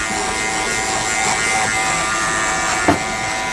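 Close electric hair trimmer buzzing steadily while trimming hair at the sides of the head, a continuous whine with a brief sharp knock near the end.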